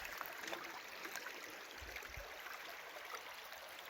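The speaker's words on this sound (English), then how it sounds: "here's a creek" A small creek that once held gold nuggets flows steadily nearby, giving a continuous soft rushing and gurgling wash of water with no voices.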